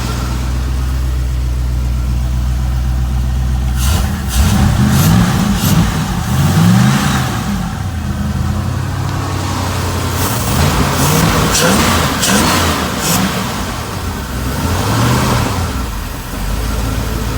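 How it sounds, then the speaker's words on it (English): A 1998 Cobalt 220 boat's engine idles with a low, steady rumble, then revs up in repeated swelling bursts before settling back, recorded close by with no talking. "Got the engine run."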